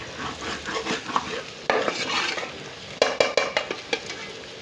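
Red chilli being stirred into onions and potatoes frying in a pan, a soft sizzle under scraping strokes of a spoon against metal, with a burst of sharper clinks and scrapes near the end.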